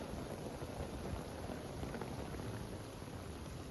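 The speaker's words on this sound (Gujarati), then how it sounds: "આગાહી પ્રમાણે જ અત્યારે માવઠું પડી રહ્યું છે." Steady heavy rain pouring down, a dense continuous hiss with low rumbling underneath, no voices.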